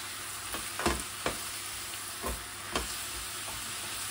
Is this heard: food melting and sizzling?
yes